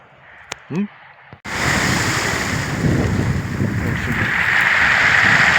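Steady roar of ocean surf and wind noise on the coast of Chile fills the clip after a short, quieter opening with a brief voice-like sound.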